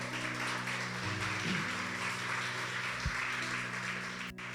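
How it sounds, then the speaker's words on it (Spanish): A church congregation applauds as a steady, diffuse wash of clapping, partly masked by a low humming tone and faint background sounds, with no clear speech. "Puede celebrar dando un aplauso al Señor."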